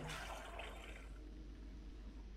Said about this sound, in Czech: otevře nám to kanál, aby to vypustilo vodu